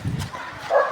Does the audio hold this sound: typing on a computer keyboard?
no